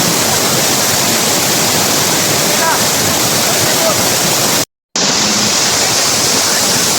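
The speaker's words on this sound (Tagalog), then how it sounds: "Wow, ang taas naman itong falls na to. Talagang sulit. Napakalakas ng tubig." Powerful 120-foot waterfall in Maragusan, Davao de Oro, roaring as a loud, steady broadband rush close by, unbroken except for a brief cut near the end.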